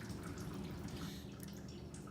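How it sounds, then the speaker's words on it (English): Coolant dripping and trickling from a removed thermostat housing on a Dodge 2.4 engine, draining onto the transmission, heard as a steady close liquid patter with no speech. "it will puddle up on that transmission and drain from there as it drains"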